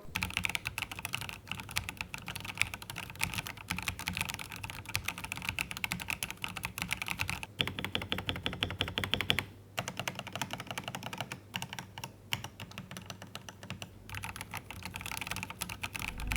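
Steady, rapid clatter of keys on a HyperX Alloy mechanical keyboard with tactile HyperX Aqua switches, close and continuous, with a brief pause partway through before the tapping resumes.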